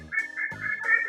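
A walking animal toy duck sounds a few synthetic, nasal quacks in quick succession, loud and close, with no talk.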